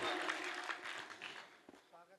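An audience claps at a Hindi kavi sammelan poetry recital. The applause is moderate and fades over two seconds, then trails into talk at the end.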